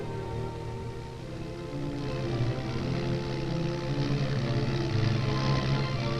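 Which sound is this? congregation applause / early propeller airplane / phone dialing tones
early propeller airplane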